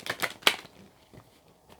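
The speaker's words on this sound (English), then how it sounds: "Just give this a shuffle again." Tarot cards being shuffled by hand, heard as a few brief close riffling and slapping bursts followed by quiet softer shuffling.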